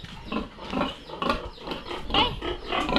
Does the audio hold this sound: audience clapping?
no